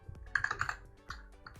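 Typing on a computer keyboard: a quick run of close, crisp key clicks, then a few separate taps after a short pause.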